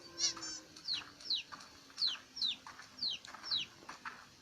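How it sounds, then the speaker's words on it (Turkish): A cartoon chick from the Niloya animated series cheeps repeatedly in a steady series of high, sharp descending peeps, fairly close, with faint background noise. "Tatlı civciv beni mi takip ediyorsun?"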